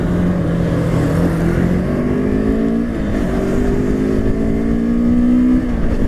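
A Morbidelli T252X adventure motorcycle engine revs up under riding, its tone climbing in repeated rising pulls, loud and steady close by.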